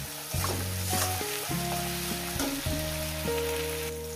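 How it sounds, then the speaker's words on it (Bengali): Onions frying in oil with dried fish and spices, cooked outdoors by a riverside, give a steady close sizzle with bursts of stirring scrapes and some tonal background sound running throughout. "মিনিমাম পেঁয়াজটাকে আমি আর 2 মিনিট ভেজে নেব"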